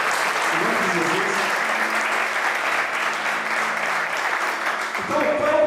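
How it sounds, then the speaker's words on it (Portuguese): A church congregation claps loudly and continuously, a dense wash of many hands that fades as a voice begins speaking at the end. "Você pode aplaudir o Senhor bem forte por isso"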